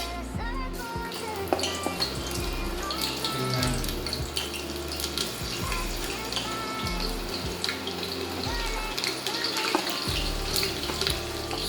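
Onion goes into a pot with cardamom and cloves for a laal maas curry, sizzling and spattering continuously at close range, with scattered clinks and low thumps from the pot and utensils.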